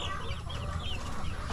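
Rhode Island chickens cluck steadily and close by while pecking at ripe bananas, several birds overlapping in a busy, continuous chatter with no pauses.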